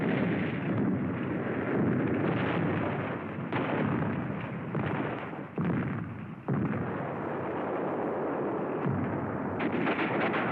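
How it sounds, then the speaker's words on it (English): A mortar barrage in wartime footage brings a continuous heavy roar of blasts, loud and dense, with a few sharp breaks as explosions overlap for about ten seconds. "A mortar barrage searches out hidden machine gun nests."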